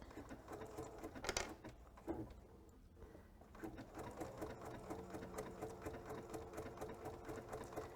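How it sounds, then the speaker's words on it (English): A sewing machine stitching a triple stitch, running forward and back over its own line, a quiet rapid mechanical patter that pauses briefly near the start and then runs on steadily and evenly. "the machine is going to sew forwards and sew back over itself, okay, 3 times"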